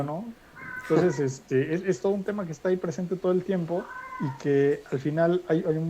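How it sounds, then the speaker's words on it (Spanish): A cat meows in the background of a home setting, faint and intermittent beneath a person speaking continuously in Spanish. "perdón por el gato que siempre está de fondo"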